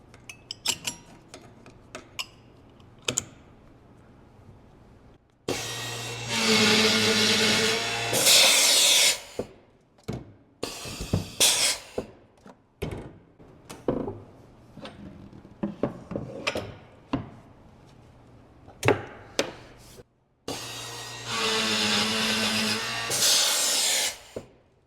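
A hinge inserter machine presses hinges into a cabinet box in two loud pneumatic bursts of a few seconds each. Close clanks, clicks and handling knocks of parts being set in place come between them.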